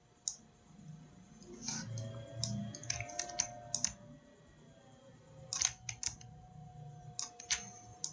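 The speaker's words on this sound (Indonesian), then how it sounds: "Oke, kita tekan enter, kemudian coba kita pindahkan kembali." Computer keyboard keys are pressed in scattered sharp clicks with occasional quick runs, close and soft against a quiet room hum, with no talk.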